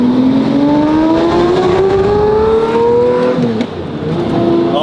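A truck engine revs hard nearby, its pitch climbing steadily for a few seconds before dropping back to a loud idle, with no talking over it.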